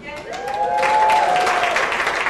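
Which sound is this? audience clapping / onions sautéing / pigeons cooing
audience clapping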